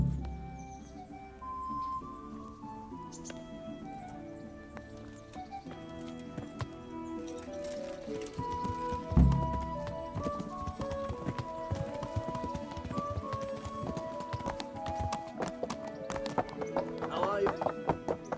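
Horse hooves clip-clopping in the medieval role-playing game Kingdom Come: Deliverance, a steady trotting rhythm under orchestral music with occasional birdsong.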